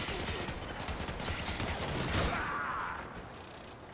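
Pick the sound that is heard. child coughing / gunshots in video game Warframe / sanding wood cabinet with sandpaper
gunshots in video game Warframe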